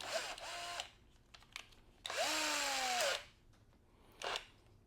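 A Skil cordless power drill spins up in three short bursts, the middle one about a second long, a whirring motor whine that rises and falls with each trigger pull, close and alone.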